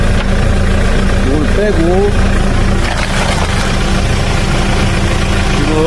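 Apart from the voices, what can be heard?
car engine idling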